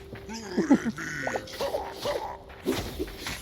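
Video game dogs in Hytale give short whimpering yips and squeaky barks in irregular bursts. Game noises and faint background sounds are mixed in.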